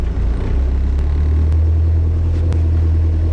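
Diesel-powered Jeep TJ Wrangler engine braking downhill in 4 low, first gear, foot off the brake: a steady, close, deep engine rumble continues throughout, with a few faint clicks and no talk.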